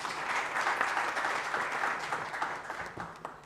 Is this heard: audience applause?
yes